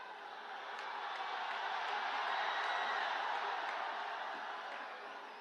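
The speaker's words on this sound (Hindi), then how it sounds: "जोरदार ताली से चिराग पासवान जी का स्वागत करिए।" Large crowd at a PM Modi election rally in Hajipur, Bihar, applauding to welcome Chirag Paswan: a dense, steady wash of clapping and crowd noise that swells and holds without a break, fairly distant and broad.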